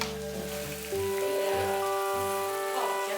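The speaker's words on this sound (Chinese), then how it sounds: "慢慢煎，慢慢煎。" Lamb intestine fries slowly in oil, giving a soft steady sizzle and crackle heard up close under a faint background tone, with no talk.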